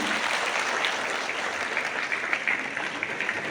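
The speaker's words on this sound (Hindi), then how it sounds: "आपकी जोरदार तालियों के बीच" Audience at an official ceremony in Jammu and Kashmir gives sustained applause, even and continuous clapping at moderate level throughout.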